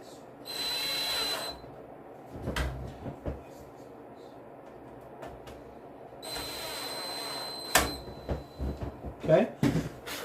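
A power screwdriver drives screws while a PC is rebuilt, with two short whirring bursts close by, separated by clicks and handling noises, and speech in between.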